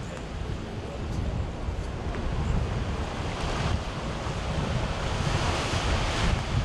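Waves wash steadily against a small rocky beach on the Maltese coast, a continuous close rumble of surf mixed with wind noise on the microphone and no voices.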